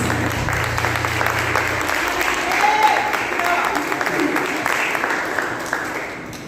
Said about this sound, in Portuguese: Aplaude e glorifica o Senhor Jesus.